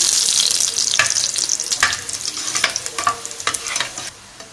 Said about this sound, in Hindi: देखिए यहाँ हमने प्याज थोड़ी सी हमने इसको तेल में फ्राई किया है